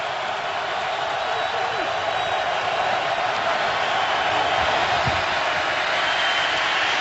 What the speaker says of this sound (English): Crowd is vocal here at FedEx Field.